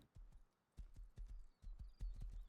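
In the video game Rust, horse hooves clip-clop in a quickening, uneven rhythm, quiet and close, growing louder as the steps build into a steady trot.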